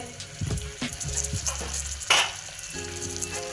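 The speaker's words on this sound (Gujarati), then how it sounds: "વ્યવસ્થિત રીતે આપણે એક મિનિટ સુધી સાંતળવા દેવાનું છે" Masala sautéing in a pan for mung bean rice, with a tomato going in: a steady low sizzle of frying with scattered stirring clinks and scrapes, close and alone.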